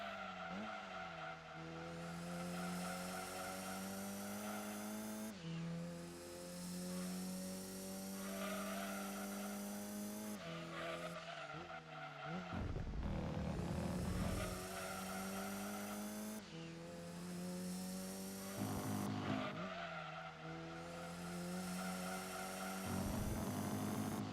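Racing car engine in Gran Turismo 2, a loud sustained whine rising and dropping through gear changes, with brief tire squeal near the middle, continuous and alone.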